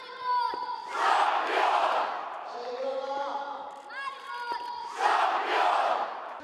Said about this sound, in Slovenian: ko je Lana spodbudila navijače, so ji ti sledili